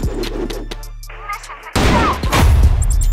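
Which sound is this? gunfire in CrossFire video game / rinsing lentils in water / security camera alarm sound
gunfire in CrossFire video game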